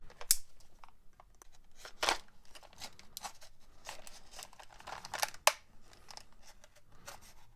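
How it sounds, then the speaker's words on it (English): Blister packaging holding a locking 1/4-inch hex bit holder being cut open with scissors, close, quiet crunching and crinkling with a few sharp snips at irregular intervals. "Let's cut it open and let's see what's inside."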